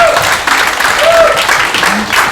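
Conference audience clapping at a tech and homelessness talk, brief loud applause with voices speaking over it.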